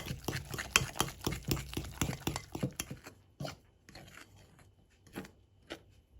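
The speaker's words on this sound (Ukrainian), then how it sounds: "Спочатку розмішую тісто виделкою, а потім замішую рукою." Rapid, rhythmic scraping and tapping of a fork stirring dough in a bowl, close and busy at first, then slowing to a few scattered strokes.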